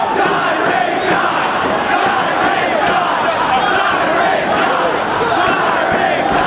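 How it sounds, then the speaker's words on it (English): A wrestling crowd in CM Punk's hometown roars and yells hostile chants at Jimmy Rave, a dense, loud, continuous wall of massed voices filling an arena without letup. "Punk's hometown crowd wants Jimmy Rave to die, and they're not shy to say it."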